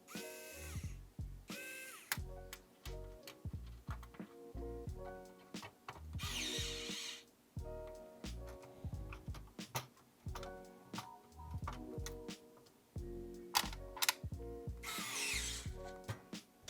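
A STREBITO cordless electric screwdriver drives screws in short repeated bursts of whirring motor, separated by clicks and handling noises, close and fairly loud with no talking.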